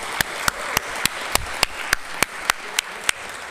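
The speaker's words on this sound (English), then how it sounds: "We have another warm round of applause for that wonderful, wonderful farewell" An auditorium audience applauds after a farewell at a scholars symposium, a thin diffuse patter of clapping under which one louder nearby clapper beats evenly about three times a second.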